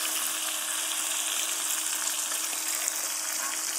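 Fish pieces fry in a pan with a steady, close hiss and fine crackle of hot oil, even and unbroken throughout.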